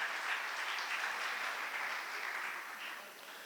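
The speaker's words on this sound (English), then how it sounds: "So can we have a round of applause for Saraswat Chamber to have completed 5 years?" Audience applause at a business chamber conclave marking its fifth anniversary, steady even clapping heard at a distance and fading slightly at the close.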